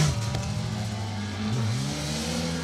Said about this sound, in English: We are just about to see the blue Mark II of Malcolm and Jamie Atherton